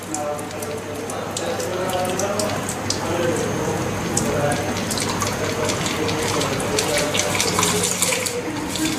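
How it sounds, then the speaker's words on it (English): Steady rushing water pours continuously through a new Nasaka Xtrasure water filter, like a tap running into a sink, with a few faint sounds mixed in behind it. "remove carbon particles from the new filter till clear water is obtained"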